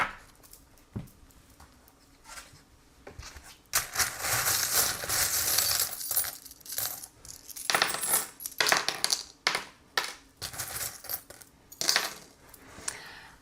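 Small metal divination charms shaken and cast onto a surface for a tarot-style reading, a scatter of bright clinks and rattling bursts that come in several separate throws with quiet gaps between.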